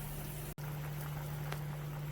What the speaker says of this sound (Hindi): यहाँ बढ़िया से उबाल आ गई पानी।